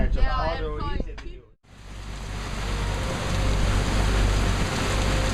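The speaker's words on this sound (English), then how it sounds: "I awoke at 7 to a sudden morning rain squall." A voice speaks briefly, then after a short gap a loud, dense hiss of heavy rain from a sudden morning squall in Ha Long Bay pours down steadily and builds, drumming close and continuous.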